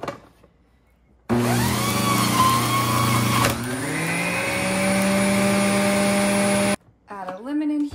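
A Hamilton Beach juicer motor whirs loudly as it presses oranges and ginger, starting abruptly, changing pitch as produce feeds in, then cutting off, with a brief voice at the start and end.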